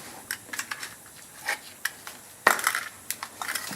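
New brake pads for trailer brakes being cut out of their packaging, heard as a run of sharp crinkling, snapping plastic and tearing sounds at close range, with a louder crack partway through and no talking.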